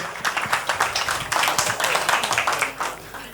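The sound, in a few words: audience applause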